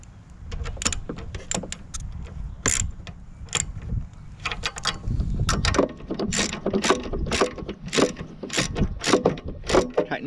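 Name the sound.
ratchet tightening bolts on a push mower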